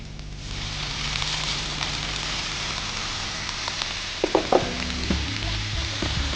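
Masala with chilli flakes, black pepper, vinegar, sugar and salt sautés in a pan for crispy fried corn, making a steady, close sizzle. Near the end a few louder clanks of a utensil cut through.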